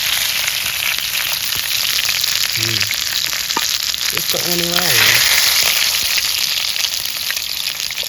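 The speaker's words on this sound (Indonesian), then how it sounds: "Terus tak goreng sambel." Tomato sambal fries in a hot pan for grilled tuna, a steady loud sizzle and crackle running throughout, with a brief spoken voice partway through.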